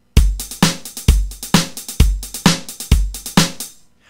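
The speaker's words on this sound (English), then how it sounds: "the first sound that I started with was the drums." Roland Juno DS keyboard playing its Pop Kit 2 drum sound in a steady pop beat: punchy kicks and sharp snare hits with crisp hats, loud and dry, stopping abruptly at the end.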